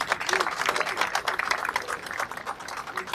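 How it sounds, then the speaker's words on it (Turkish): Wedding guests at a marriage ceremony clap for the bride, producing a steady, dense patter of many hands that lasts throughout with no breaks. "Alkışlayalım Tuğba Hanım'ı."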